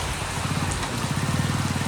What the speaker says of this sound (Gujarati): પવન થાય છે વરસાદ આવે મિત્રો.